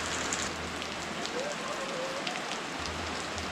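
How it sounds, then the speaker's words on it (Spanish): Steady rain patters on a surface outdoors on an overcast day in rural Cuba, a dense continuous wash of drops with a faint tonal whistle partway through. "La lluvia es muy común y estas imágenes son algo recurrente"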